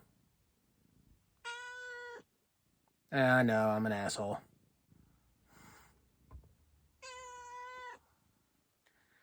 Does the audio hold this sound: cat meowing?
yes